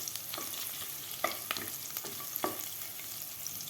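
Cashews being sautéed in ghee in a pan for matar pulao, giving a soft, faint sizzle with a few quick spoon scrapes and taps spread across the moment, no voices present.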